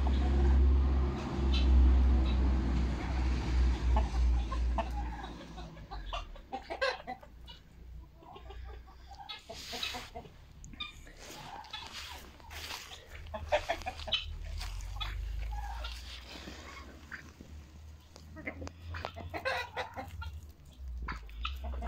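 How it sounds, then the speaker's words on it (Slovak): Roosters and hens in a backyard flock cluck and squabble in a busy, continuous stream of close clucks and short calls, with a low rumble early on and no talking over them. "Kohútiky, nebyte sa."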